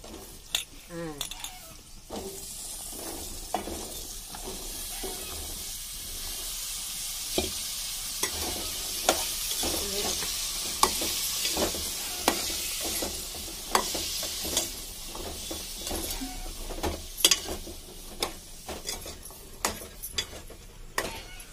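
Pumpkin pieces with turmeric fry and sizzle in a pan, stirred steadily with repeated scraping and clinking of a utensil throughout, fairly close and moderately loud.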